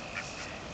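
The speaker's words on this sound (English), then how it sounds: "The duck seems to be uninterested." A duck gives a short, faint nasal quack, a single brief call at some distance outdoors.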